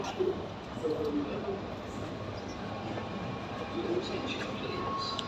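A steady rumble of a Dubai Metro train fills the background, with a continuous low drone and faint high hiss, under a busy station ambience.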